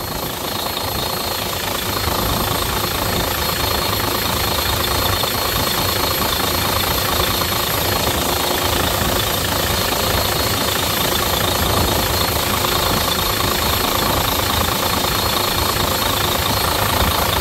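An Iveco Cursor 13 diesel of 13 litres on an Astra HD7/C 84.40 four-axle concrete mixer truck idles with a steady, rough, knocking rumble, close and constant throughout.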